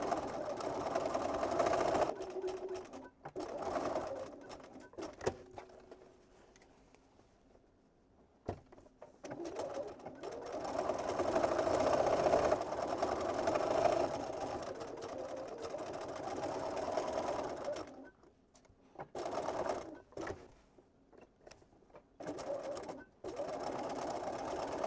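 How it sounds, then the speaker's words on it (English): A sewing machine stitches the side seams of a fabric drawstring pouch, whirring in several runs of varying length separated by short pauses, with soft pigeon cooing in the background. "So we've sewn the side seam with the openings at the drawstring and to turn the bag later"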